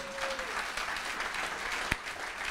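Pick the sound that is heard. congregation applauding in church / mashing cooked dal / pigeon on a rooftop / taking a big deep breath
congregation applauding in church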